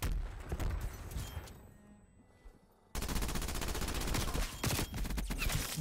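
A PPSh-41 (Night Raid) submachine gun in Call of Duty Cold War fires loud, rapid sustained bursts, briefly pausing and tapering midway before erupting again into dense continuous gunfire.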